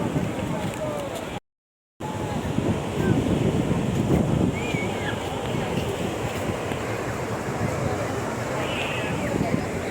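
Sea waves at Digha beach, a constant rough wash of surf under heavy wind noise on the microphone, with people talking faintly.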